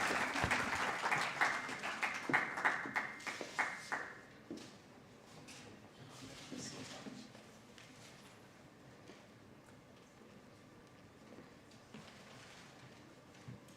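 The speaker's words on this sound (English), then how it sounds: "Let's give him a warm round of applause as he comes to speak with us." Audience applause at an International Migrants Day event in Kenya welcoming a speaker, a dense, fairly distant patter that stays strong for about four seconds, then fades into scattered claps and low room noise with wind-like rumble.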